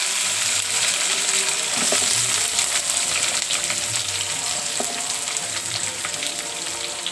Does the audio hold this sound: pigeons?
no